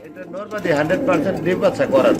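Close pigeons cooing in repeated throaty bursts, with a voice talking over them.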